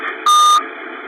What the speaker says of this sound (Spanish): Ese pitido que acabáis de oír en la grabación de la caja negra del tren es el paso por la baliza de vía libre